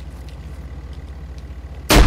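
A grenade goes off in an online shooter game at the very end, a sudden loud, broad blast after a quiet stretch of low rumbling game ambience.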